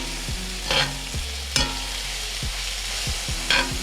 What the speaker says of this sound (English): I'm searing the shrimp so they got a little, you know, hard on the outside, soft on the inside